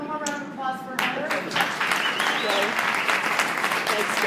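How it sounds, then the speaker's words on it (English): Applause for a woman named Gertrude at a New Mexico event, a broad steady clapping that swells after the first second and carries on throughout, with voices calling out over it. "So can we have one more round of applause for her?"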